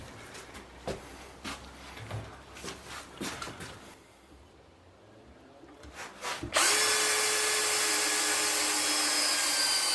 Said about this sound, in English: jamming in a piece and drilling it through there